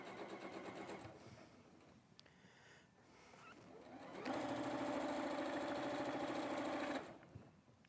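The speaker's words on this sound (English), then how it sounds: "I'm just sewing my little row here, taking time to make sure everything's laying flat." A sewing machine stitches a quilt row, its needle chattering in a fast rapid rhythm, quieter at first then louder and steadier for a few seconds before stopping, fairly close and with no talking.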